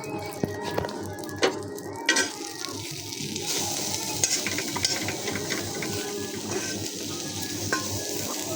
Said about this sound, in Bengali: বেগুন ভাজি করতেছি, 3 পিস ভাজা শেষ, আর 3 পিস দিলাম চুলায়।